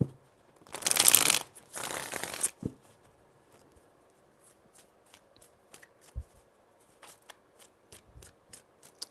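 Tarot cards shuffled in two quick crisp riffling bursts up close, followed by soft scattered taps and card handling.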